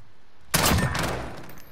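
Gunfire in a shooter video game: after half a second of near quiet, one sharp, loud burst of shots hits suddenly and then decays into a rattling tail.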